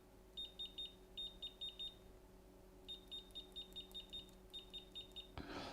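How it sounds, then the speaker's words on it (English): A FNIRSI DMC-100 clamp meter beeping in continuity mode, several runs of short rapid high-pitched beeps separated by pauses, fairly quiet and close. "Let's see how much time it will take to beep."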